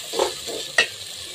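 A spoon stirs spices and tomato as they sauté in a pan, with a couple of soft scraping strokes and one sharper clink of the utensil over a low, continuous sizzle.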